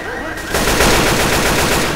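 Rapid automatic gunfire in Left 4 Dead 2 bursts in loud and close after a short lull, a dense rattling stream of shots that runs on without pause.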